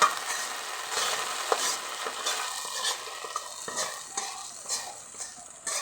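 A beef pithali mixture from Jamalpur frying until brown in a pan, with a constant hissing sizzle and repeated spatula scrapes and stirring knocks, close and moderately loud.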